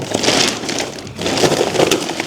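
Broken pieces of an online-bought Christmas decoration being handled, close crunchy rattling and scraping of shattered fragments, loud and continuous with a brief lull midway.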